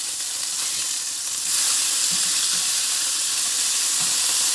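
A venison burger sizzles steadily on a hot cooking surface, a loud, close, continuous hiss that swells slightly partway through, with faint pops underneath and no talking.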